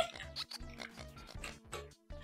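Video game cows in Bug Academy give off short, repeated grunting calls in a quick, uneven rhythm, close and fairly loud, with no talking over them.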